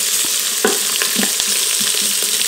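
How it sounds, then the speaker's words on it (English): Chopped bacon squares frying in an Instant Pot, a loud, close, continuous sizzle with crackling pops and occasional scraping stirs, no voices. "Render that bacon out a little bit."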